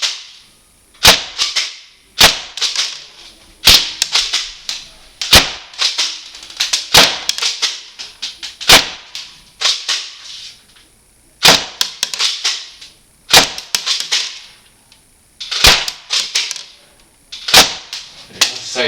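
A Mossberg tactical spring airsoft shotgun firing repeatedly, sharp snapping shots about every one to two seconds, each followed by rattling cocking and handling noises, loud and close.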